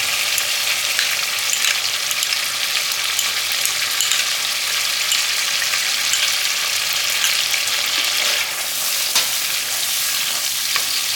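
Potatoes fry with spices, salt, a little sugar, cashews, raisins and melon seed paste for aloo dum, giving a loud, steady, close sizzle that runs unbroken with no talking.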